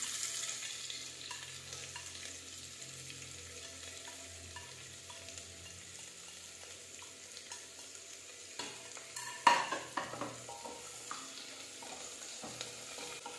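Garlic and onion frying in a pan for a pressure-cooker chicken pulao, heard as a low, steady sizzle with scattered stirring scrapes and a few sharper clinks near the end, with no voices.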